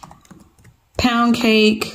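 Light, faint taps on a computer keyboard last for about a second before a person starts speaking.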